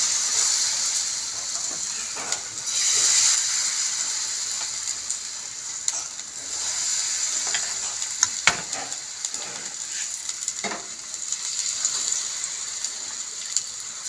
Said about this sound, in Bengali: এবার গোলা ময়দাটা গরম তেলের মধ্যে দিয়ে দেবো।